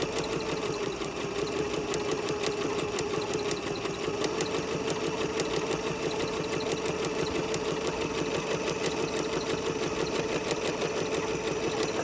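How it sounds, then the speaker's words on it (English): A sewing machine runs continuously at a steady, fast stitching pace along a gathering seam, with an even mechanical hum and rapid rhythmic needle clatter, close and alone without talk. "we're just going to stitch right on the line all the way down"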